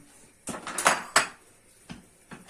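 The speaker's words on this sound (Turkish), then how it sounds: "Ezici yardımıyla çökeleklerimi ezeceğim." Çökelek cheese is mashed with a masher for a Hatay-style salad, giving a handful of soft, irregular knocks and scrapes against a bowl, close and otherwise quiet, with no talking.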